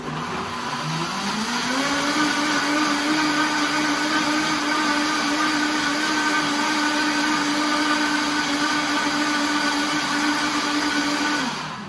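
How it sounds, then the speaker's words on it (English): A Vitamix blender spins up from low and holds a loud, steady motor whine for about ten seconds while blending a vegan ranch dressing, then begins to wind down at the end, with no talking. "I'm turning on the Vitamix and turn it on, flip it up."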